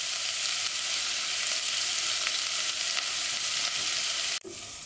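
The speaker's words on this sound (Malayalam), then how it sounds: "ഇത് നന്നായിട്ട് വഴറ്റി കൊടുക്കാം" Vegetables sautéing in a pan with salt for a Kerala evening snack, giving a loud, steady sizzle throughout that cuts off abruptly near the end.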